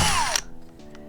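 A power drill drills out a speaker grill, giving a short, high whining burst that drops in pitch as the motor spins down, then a few faint clicks and rattles close by.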